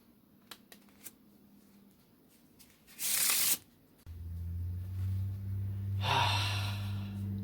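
Playing cards cut and handled in a magic card flourish, a few faint clicks then one short loud riffling burst, followed by a second fainter burst over a steady low hum.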